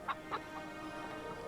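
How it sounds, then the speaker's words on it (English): A couple of soft clucks from chickens open the moment, faint and close together, then fade into a low murmuring background. "Why is there chickens?"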